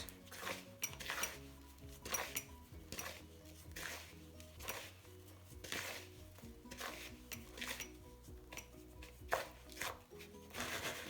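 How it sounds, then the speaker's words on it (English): Naan dough ingredients get a quick mix in a bowl to break up lumps, with soft clinks and knocks of a utensil against the dish in an uneven rhythm, faint and close, no voice. "just going to give it a quick mix just to make sure all the lumps in that are out"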